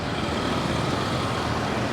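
Street traffic in Phnom Penh, Cambodia, makes a dense, steady roar of passing cars and trucks nearby, continuous and broadband, with no voices on top.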